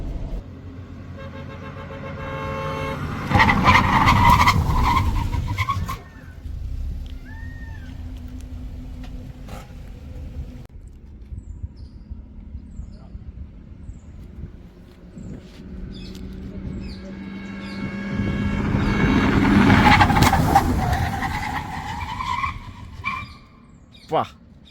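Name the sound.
car tires skidding during sudden emergency braking test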